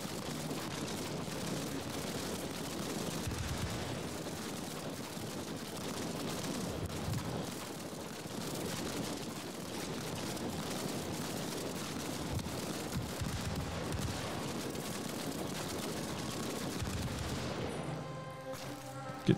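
Sustained gunfire in a World War II shooter game set in sewers, a thick continuous barrage of shots and rumble with little pause, steady and fairly loud throughout.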